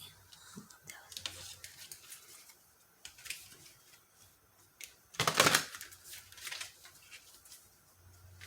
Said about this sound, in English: I'm just looking at the cards as I shuffle